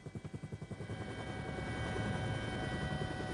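A leased forest police helicopter flies overhead, its rotor chopping in a distinct pulsing beat at first, then blurring into a steady, loud engine drone that carries on alone without voices.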